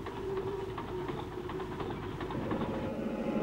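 A train rolls steadily along rail tracks in Western Australian country, with a low rumbling drone and faint rhythmic clatter that holds constant throughout, somewhat distant and moderately quiet.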